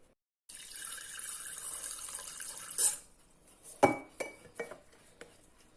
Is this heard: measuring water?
yes